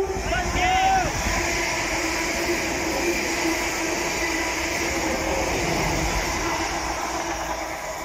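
A train rumbles steadily past at close range over a level crossing at Cheshunt, wheels clattering with a continuous mechanical roar and a faint high squeal early on.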